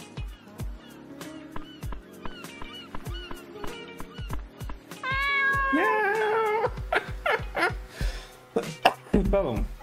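A cat in the video game Dave the Diver lets out drawn-out, wavering meows over a busy game soundtrack of rhythmic plucked or tapping beats, loud and close.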